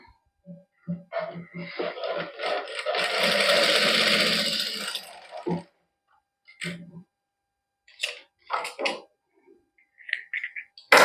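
A sewing machine stitches a neck design onto a suit in a loud, close burst of rapid mechanical whirring, followed by scattered short clicks and taps from handling.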